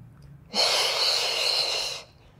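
A single long, forceful breath drawn in during a Pilates workout, lasting about a second and a half, close and loud with a hissing, airy texture and no speech.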